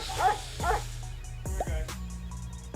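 A Labrador dog barks and yips in short, close bursts, several sharp calls with brief whimpering tones between them, loud and alone without any talk.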